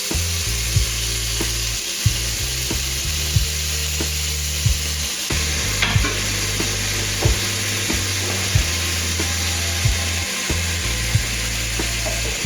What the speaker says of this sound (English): Get that nice sizzle.